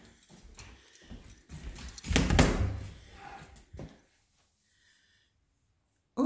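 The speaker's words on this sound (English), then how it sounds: "I always wanted those garage type sliding doors." Large garage-style sliding doors in a house on moving day rumble and clatter for a few seconds, with a loud heavy roll in the middle, then fall silent.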